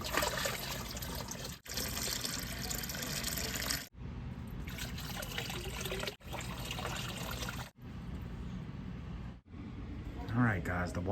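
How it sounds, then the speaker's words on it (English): Water pours steadily into a bucket from a hose or tap, a continuous splashing rush broken by brief pauses, while filling for an aquarium canister filter cleanup; a voice speaks briefly near the end. "Patiently waiting for my bucket to fill up."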